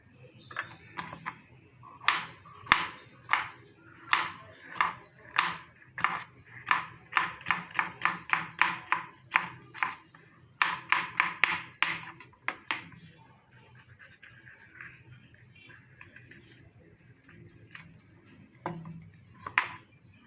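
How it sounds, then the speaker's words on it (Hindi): A knife chops through capsicum (shimla mirch) on a board in quick, close, crisp strokes, bursts of rapid rhythmic cuts with short pauses, ending in a few scattered taps. "शिमला मिर्ची को भी काट लें।"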